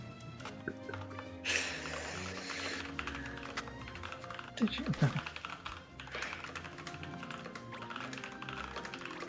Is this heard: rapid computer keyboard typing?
yes